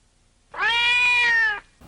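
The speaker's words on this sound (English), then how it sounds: "That cat meowing scene really added a lot to the plot." A single clear, loud cat meow from an anime scene, about a second long, close and alone against silence.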